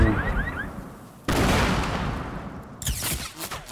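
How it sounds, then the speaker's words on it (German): Sniper fire in Fortnite Battle Royale: sharp loud cracks, one after a second with a long echoing tail, another near the end, over game ambience and faint chirps, with no talk. "Okay, wir werden beschossen von einem Sniper."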